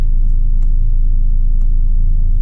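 A 25-year-old project truck back on the road for the first time since 2015, its engine giving a loud, steady low rumble while driving, close and continuous with no speech.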